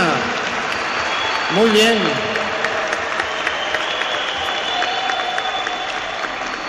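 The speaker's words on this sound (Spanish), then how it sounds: "Un aplauso pues para esta hermana." An audience claps in a church hall, soft, steady applause spread across the whole moment while someone speaks over it.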